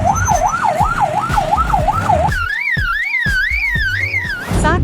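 A lyrebird imitates an ambulance siren with a loud, close wailing tone that sweeps up and down several times, then shifts to a higher, faster warble, mixed with clicking calls.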